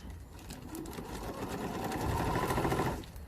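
A sewing machine stitches a tarpaulin cape for a lightweight tent, running in a continuous fast mechanical whir with rapid needle ticking that rises slightly before stopping abruptly.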